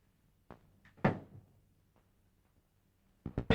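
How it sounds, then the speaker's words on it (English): A door being opened in a 1936 film: a few quiet thunks and clicks, then one louder knock-like impact at the middle, with a short burst of sharp clatter at the end, against a low steady hum. "Well, why don't you open the door?"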